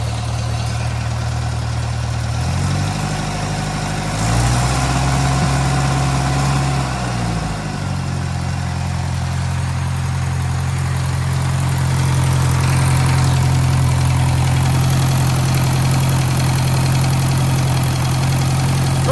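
French-built Massey Harris Pony 812 tractor engine idling steadily, a low rumbling throb with a slight exhaust leak, close and continuous with small shifts in pitch and no talk.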